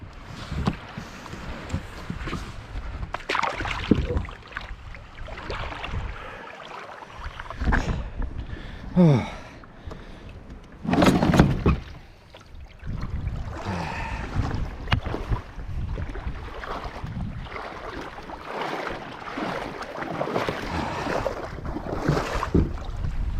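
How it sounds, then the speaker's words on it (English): Kayak cruising across open water back toward a beach, steady paddle splashes and water swishing against the hull under gusty wind buffeting the microphone, close and moderately loud throughout. "I am going to cruise now, and we'll see if we can make it back to the beach before the sun goes down."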